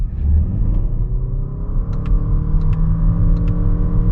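Lexus NX450h+ plug-in hybrid driving, a smooth low rumble with a steadily climbing whine from the continuously variable transmission and a few faint ticks, heard from inside the cabin with no talking.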